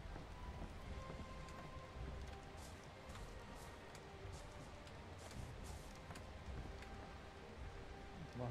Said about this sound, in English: First it was snowing, now it's raining.